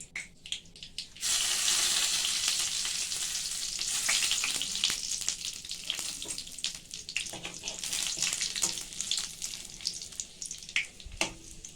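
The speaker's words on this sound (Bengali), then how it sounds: "প্রথমে এতে একটা তেজপাতা ফোড়ন দিলাম, দুটো শুকনো লঙ্কা, একটা সাদা জিরে" A bay leaf, two dried chillies and cumin seeds hit hot oil with a sudden loud hiss that settles into a steady sizzle, broken by scattered pops and stirring clicks.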